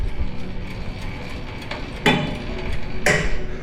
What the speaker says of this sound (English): that click that you hear is the 90-degree lock